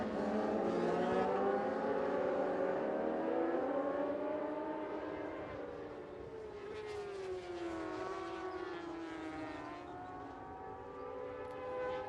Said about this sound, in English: Big burnout and big celebrations.